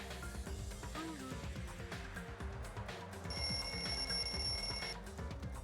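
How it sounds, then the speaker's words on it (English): A wall clock alarm in a lounge in the video game Danganronpa 2: Goodbye Despair rings out as a sustained electronic bell tone partway through, over busy game music and sound effects, fairly quiet overall. "The lounge's wall clock alarm started ringing at 5:30."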